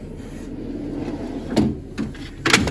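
A toolbox drawer rubs and slides open with a low scraping rasp, then two sharper clunks as it stops and the contents shift, heard close and alone.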